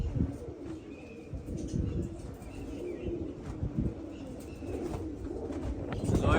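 Pigeons coo softly and repeatedly over a constant, noisy background, with the low murmuring calls continuing throughout.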